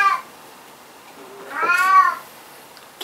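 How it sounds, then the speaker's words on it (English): A cat gives one clear, drawn-out meow close by in a quiet room, preceded by a brief faint chirp and followed by silence. "every time he comes out, he's got to meow like that"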